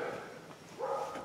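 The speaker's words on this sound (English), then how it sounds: "Bella, quit your barking." Dog barking close by in a garage during an ATV oil change, two short yapping barks about a second apart.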